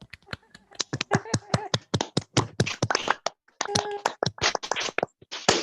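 A small audience at a university industry-practitioner lecture claps for a guest speaker: sharp, separate hand claps in an uneven, sparse patter rather than a dense roar, with brief voices between them.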